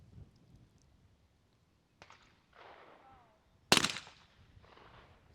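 A shotgun fires in a women's trap shooting final at a national championship: a sharp, distant pop, then one loud close blast with a short tail, under quiet commentary.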